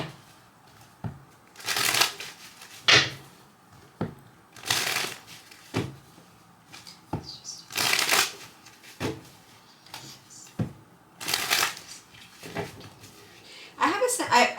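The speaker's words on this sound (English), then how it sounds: "I'm just kind of doing an extra shuffle here as I'm guided to do so" Crisp bursts of tarot card shuffling, repeated in short riffles every second or two, close by, with quieter handling noises between them.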